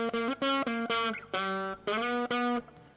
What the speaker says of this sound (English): you can hear that it's got distortion